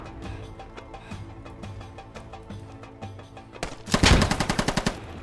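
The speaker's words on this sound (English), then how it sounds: "I'm being shot at" Gunfire in a shooter video game: scattered single shots early on, then a loud close burst of rapid automatic fire in an even rattling rhythm near the end, with no talking.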